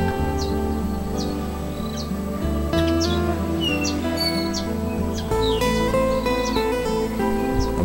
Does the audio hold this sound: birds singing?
yes